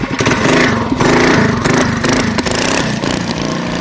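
A Predator Ghost mini trike engine runs loud and close, its buzzy small-engine note rising and dipping steadily as it is ridden.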